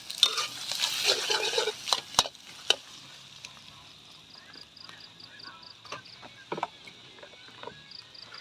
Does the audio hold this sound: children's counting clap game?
no